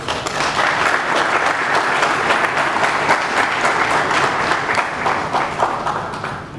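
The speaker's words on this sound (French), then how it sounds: "Les applaudissements" Loud, sustained applause fills a hotel conference hall in Kinshasa during a public ceremony opening bids for Lake Kivu gas blocks, a large crowd clapping in a thick, even roar that eases slightly at the very end.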